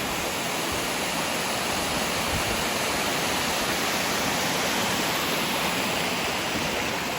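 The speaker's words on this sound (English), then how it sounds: "this is the Upper Quail Falls. Not tall by any means, no more than 5 or so metres high, but it is really beautiful" Upper Quail Falls, a small waterfall about five metres high fed by a side creek, roars in a steady, dense broadband rush that stays constant and close throughout, with no voices.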